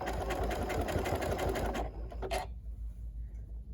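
A Janome Continental M7 sewing machine stitches in a fast, steady close-up run, then stops and pivots at a corner, leaving a brief whir and a quiet motor hum.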